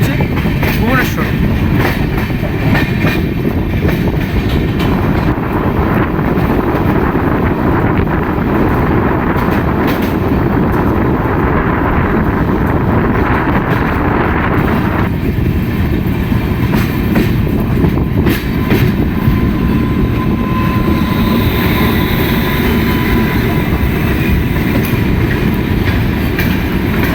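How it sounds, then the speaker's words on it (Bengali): A passenger train, SMVT Bengaluru express 22305, pulls out of Khurda Road Junction with a loud, steady rumble and wheel clatter that continues unbroken throughout, with no voices. "ট্রেন অনেকক্ষণ দাঁড়ানোর পর ছেড়ে দিল খুর্দা রোড জংশন থেকে"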